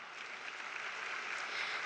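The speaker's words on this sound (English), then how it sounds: "Let's give them a round of applause." Broadband, steady crowd applause from a conference audience in a large hall, sustained clapping without pause, fairly distant and diffuse.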